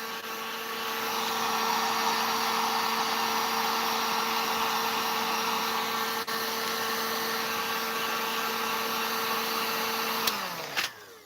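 A hair dryer runs steadily at close range, blowing out burning grease on a Redcat Racing Kaiju RC car, a continuous loud whine that cuts off abruptly near the end.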